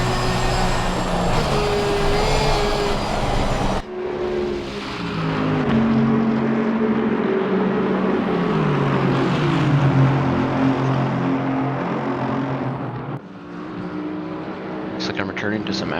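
Ford Mustang race car engines roar at Watkins Glen in Assetto Corsa Competizione, with loud passing engine notes, rising and falling revs through gear changes, and abrupt cuts between cars, while a voice talks over them.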